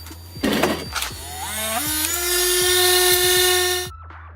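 An electric screwdriver spins a screw on a 2004 Yamaha WR450F carburetor, its motor whine rising in pitch and running steadily for a few seconds before cutting off abruptly, close and loud.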